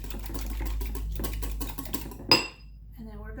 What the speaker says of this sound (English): get an egg mixed up here. Grab a whisk. Whisk that